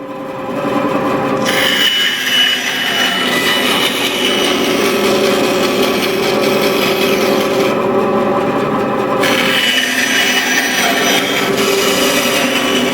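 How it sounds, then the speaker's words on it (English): A bandsaw cuts wood for dovetail joints, a loud continuous buzzing rasp with the pitch shifting as the blade bites in, easing off briefly twice, no talk. "I should have a finer blade on this bandsaw"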